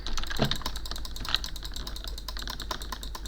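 Rapid keyboard key clicks from someone playing a video game, close and steady with fast irregular taps and no talking.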